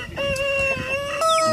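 A rooster gives a short, loud, sustained crowing call in a pigeon and poultry yard, close by and alone, with no voices present.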